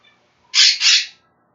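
A pet bird named Remy gives a short, loud squawk, two quick harsh bursts back to back, close up in a quiet room.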